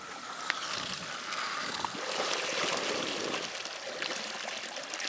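Water rushes and trickles through a venturi aerator in an uneven, bubbling, hissing stream, close and steady, with no talking.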